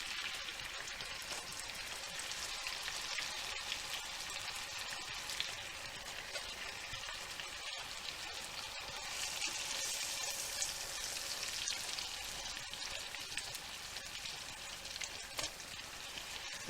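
Bananas sizzle in a pan of melted butter for a banana split, a steady close crackling fry that continues evenly throughout with no talking.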